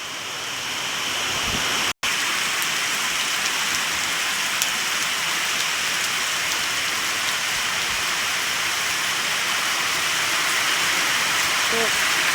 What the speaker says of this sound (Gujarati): તો અત્યારે ખૂબ સરસ મજાનો વરસાદ ચાલુ છે